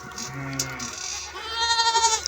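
Goats bleat on a farm near a feeding trough. Several wavering, nasal cries come from close by and grow louder toward the end, with no talking over them.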